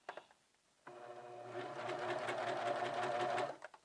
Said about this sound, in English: Okay, and let's sew.